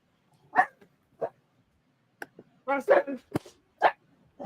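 A few sharp dog barks and yips, fairly close, spaced out with pauses between them, with some voices mixed in.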